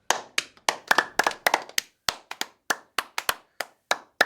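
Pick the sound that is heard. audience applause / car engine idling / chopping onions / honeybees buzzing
audience applause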